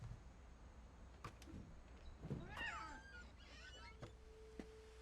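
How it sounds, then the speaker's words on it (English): A cat in the video game What Remains of Edith Finch gives a couple of short, faint meows against quiet ambience, with scattered clicks and small bumps around them. "Oh, there's a cat."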